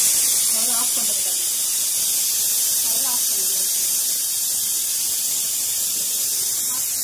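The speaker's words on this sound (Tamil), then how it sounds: "ஒரு விசில் வந்துருச்சு" A pressure cooker lets off steam while biryani cooks, giving a loud, steady high hiss that runs through the whole stretch, with faint voices murmuring underneath.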